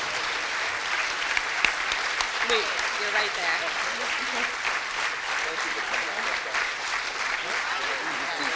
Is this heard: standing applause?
yes